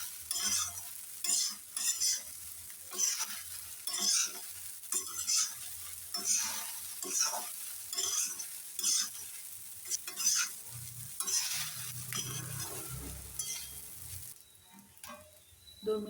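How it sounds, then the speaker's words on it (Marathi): Sabudana khichdi being stirred and sautéed in a pan, the spoon scraping in repeated rhythmic strokes over a soft sizzle, close and fairly loud with no talk. "5-1 मिनटं चांगलं हलवून घ्यायचं. परतून घ्यायचं चांगलं."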